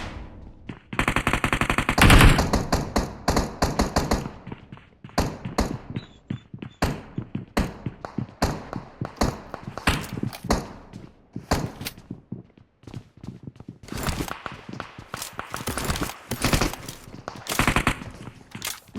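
Rapid bursts of gunfire in a shooting video game come as loud automatic volleys and single shots, clustered densely at first and then spaced into irregular sharp cracks.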